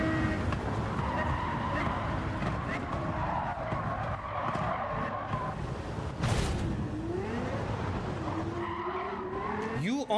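A racing car in a sim racing video game revs and skids, with wavering engine tones and repeated tyre squeals, while a voice talks over it.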